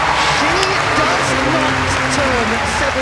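Steady applause from the crowd at a women's gymnastics all-around final at the Commonwealth Games fills the arena under a commentator speaking throughout.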